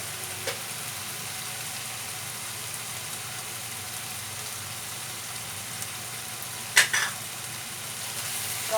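Tomato and chili powder fry for Bengali-style mutton kosha, giving a steady soft sizzle throughout. A brief clatter comes near the end, and no one talks.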